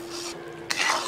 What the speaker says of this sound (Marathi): याचे ना साखर व्हायला लागेल ना तोपर्यंत याला उकळत ठेवायचा